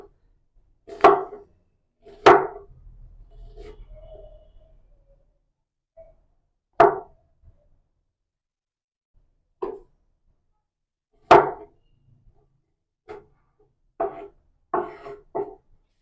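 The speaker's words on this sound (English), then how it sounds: "You also have to cut onion like this." An onion sliced with a knife for Afghani burgers: about ten sharp, separate chops at an uneven pace, close and distinct against a quiet background, with a low rumble briefly under the early cuts.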